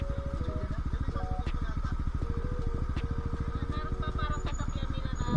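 Parked motorcycles idle together at a nature campsite, a steady low rhythmic putter of small engines close by with occasional clatter and faint tonal whines over the top.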